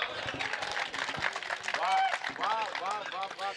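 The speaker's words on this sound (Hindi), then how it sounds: "ताली वाली बजाओ।" A live Marwari comedy audience claps in a dense, steady patter, with voices and cheers mixed in over the applause.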